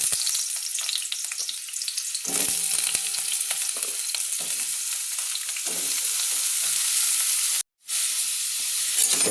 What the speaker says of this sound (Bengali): এবার আমি এই লাউগুলো, তেল গরম হয়ে গেছে, তেলের উপর দিয়ে দিচ্ছি।